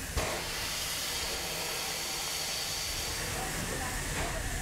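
A steam train on the Cévennes line pulls out of the station in reverse, giving off a loud, steady hiss of steam layered over a low mechanical rumble, continuous from start to end.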